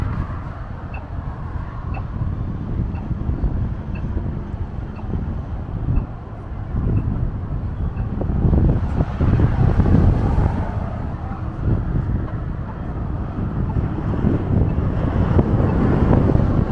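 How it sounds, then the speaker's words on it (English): Strong wind gusts buffet the microphone along the Las Vegas Strip near palm trees. The roar runs steadily throughout, loud and close, with rumbling low-end bursts that swell toward the middle and stay high to the end. "I'm sure you can hear it. You can see how windy it is right now."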